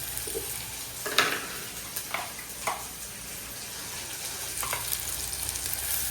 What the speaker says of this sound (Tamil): நல்லா வதங்கட்டும் வெங்காயம் தக்காளி